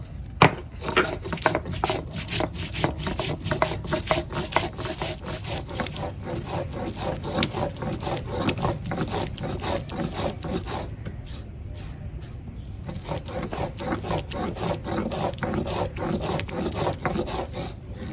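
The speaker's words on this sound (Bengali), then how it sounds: "দুই ইঞ্চির মতো আদা আর একটু রসুন কোয়া সব একসঙ্গে বেটে নেব" Ginger, about two inches of it, garlic cloves and cumin are ground together into a paste, making steady rhythmic rubbing and scraping strokes that repeat closely for the whole stretch with no talk over them.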